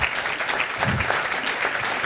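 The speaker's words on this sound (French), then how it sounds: "Sous vos applaudissements" Audience applause during a talk on talent leadership, a dense, steady wash of many hands clapping, loud and continuous across the short stretch with no speech over it.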